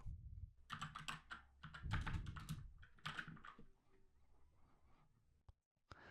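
Typing on a computer keyboard, close and clear, comes in quick clattering bursts of keystrokes with short pauses, then a few isolated key taps at the end.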